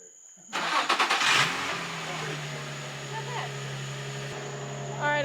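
A drift car engine cranks and catches with a few quick bursts, then settles into a steady idle nearby, with people talking faintly in the background.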